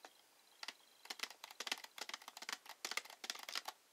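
Rapid clicking keystrokes on a keyboard plugged into an LG G3 phone through an OTG cable, a close, crisp, irregular run of taps in an otherwise quiet room.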